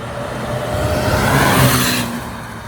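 A Mercedes W202 running on LPG drives past with a broad engine and road roar that swells to a peak and then eases off.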